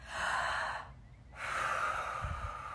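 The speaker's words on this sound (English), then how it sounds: "take a breath" A child draws a big audible breath during preschool yoga, a long airy inhale that pauses briefly and then continues, close and clear.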